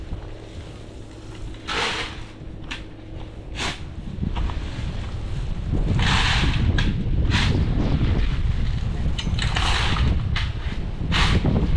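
Strong gusty wind buffets the microphone in rumbling bursts, steady roar rising and falling with no one speaking.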